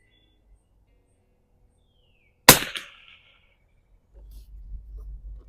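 A single sharp, loud rifle gunshot cracks out at a shooting range after silence and echoes briefly, followed later by low rustling and movement.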